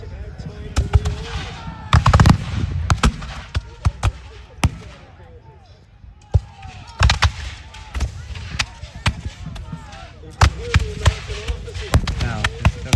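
Scattered musket shots at a Breed's Hill battle reenactment, irregular sharp cracks near and far spread across the scene, with a narrator talking over the firing.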